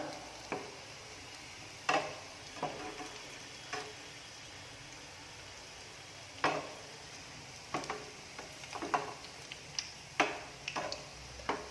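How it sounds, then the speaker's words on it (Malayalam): Chicken vada frying in hot oil, a soft continuous sizzle with scattered sharp taps and clicks as pieces are turned in the pan, fairly quiet, no talk. "ഒരു ഭാഗം ഫ്രൈ ആയി വരുമ്പോൾ നമുക്കൊന്ന് തിരിച്ചിട്ട് കൊടുക്കാം"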